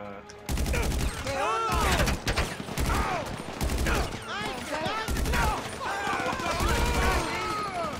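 Gunfire erupts during a GTA V mission, with loud bursts of rapid shots repeating in clusters over several seconds, close and sharp, while someone talks excitedly throughout.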